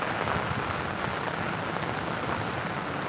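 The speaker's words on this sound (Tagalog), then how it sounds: "Dito ngayon po makikita natin sa lakas ng ulan" Dense, steady heavy rain pours down continuously at Manila Bay, a broad hiss with no breaks or voices, sounding heavy and close.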